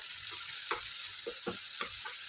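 Tomatoes are smashed and fried with ground masala in a pan. A steady close sizzle runs throughout, broken by several soft, rhythmic squelching presses and stirs.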